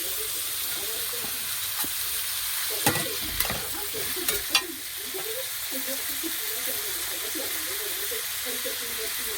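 Tomato goes into vegetables frying in a pan, giving a steady sizzle with a few sharp spikes as it lands and is stirred, then a constant crackling hiss.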